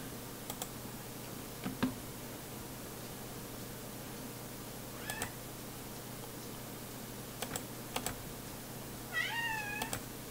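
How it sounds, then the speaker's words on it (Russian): A cat meows several times, the cries short and moderately loud, scattered over steady computer fan hum and occasional keyboard clicks, with no talking. "Тихо, кошка орёт."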